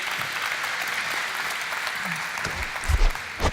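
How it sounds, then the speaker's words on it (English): An audience at a startup pitch contest final applauds continuously, a dense even patter of many hands that swells slightly near the end with a few louder thumps. "Let's give a big round of applause for V-Bionic."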